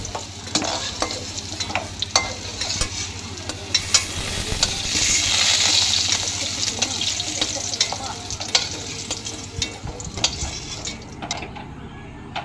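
Pumpkin chunks fry in oil in a kadai until reddish, giving a steady close sizzle broken by repeated scraping stirs of a spoon against the pan, with no talking.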